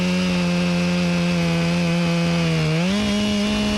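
Close, loud chainsaw runs continuously at high revs while cutting an ash tree, its steady whine holding then rising slightly in pitch near the end as the bar works through the back cut.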